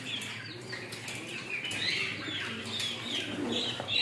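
A pet peacock kept in a small home zoo flaps its wings in repeated soft whooshing bursts, close by, alongside faint bird calls and cooing in the background with no talking.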